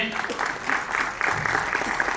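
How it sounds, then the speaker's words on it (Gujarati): Audience clapping at an ITI skills honour award ceremony, a short burst of rhythmic, fairly loud group applause. "એકવાર ખૂબ જોરદાર તાળીઓ થવી જોઈએ."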